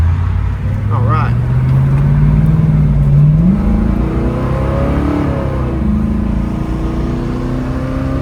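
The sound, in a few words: 1965 Ford Mustang Fastback 302 V8 accelerating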